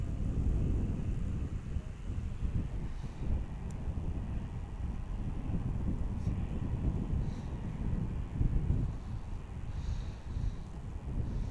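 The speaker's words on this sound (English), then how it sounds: "And they've got the Kuwaiti taxiing out here." A Kuwaiti airliner taxis out at an airport, a low continuous engine rumble and whine heard from a distance, steady throughout, mixed with wind buffeting the microphone.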